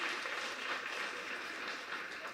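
Steady applause from an audience filling a hall during a Tamil speech, a dense, even wash of clapping heard alone for a couple of seconds.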